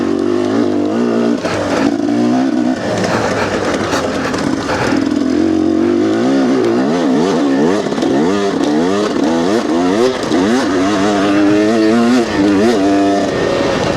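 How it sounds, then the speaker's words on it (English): KTM XC250 two-stroke dirt bike engine revving loud and close, pitch climbing and dropping repeatedly as it shifts through gears, with no talking. "This bike shifts so freaking easy. It's like you can't even feel it going into gear."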